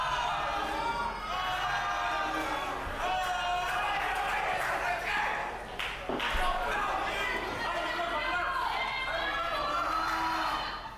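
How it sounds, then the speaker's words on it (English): A wrestling event crowd roars and yells continuously throughout, a dense, loud wall of voices. An announcer talks over the noise. "The crowd screaming, just yelling at the top of their lungs,"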